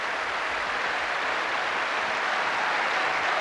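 Eurovision Song Contest 1988 audience applauding a song, a dense, steady wash of clapping from a large hall crowd that holds at full strength throughout, with no voices standing out.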